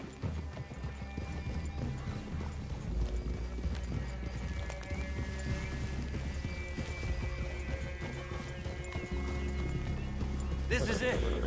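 Hooves clip-clop steadily throughout while horses snort and whinny, with a voice speaking over the constant trotting, in the video game Red Dead Redemption 2.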